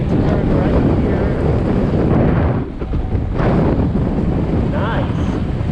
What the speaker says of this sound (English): See a dark patch of wind coming, and I'm gonna get blasted